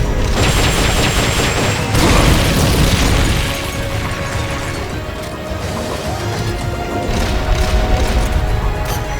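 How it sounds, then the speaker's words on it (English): Loud, dense blasts and rumbling explosions roll on without a break as a rocket launcher fires in the video game Metal Gear Solid: Peace Walker, with crashing impacts layered over a heavy low boom. "Firing rocket launcher."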